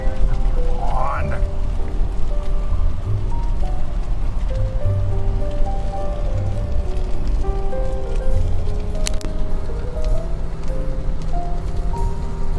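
Steady rain falling along the Alaska Highway, a constant dense hiss with a low rumble underneath, loud and continuous throughout with no clear talking.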